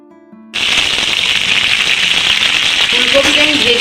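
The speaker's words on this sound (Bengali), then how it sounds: "ফুলকপিটা আমি ভেজে নিচ্ছি" Cauliflower drops into hot oil after a short near-silence and bursts into a loud, dense, steady crackling sizzle. A faint voice comes in toward the end.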